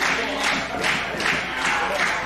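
The crowd at an independent pro wrestling show in Ridgefield Park, New Jersey, gives a steady rhythmic roar of clapping and shouting that swells in regular pulses and keeps a dense, enveloping wash of noise throughout.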